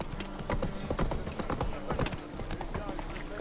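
Horse hooves clip-clopping at a gallop in The Witcher 3: Wild Hunt, a busy rhythmic thudding under game dialogue and voices throughout.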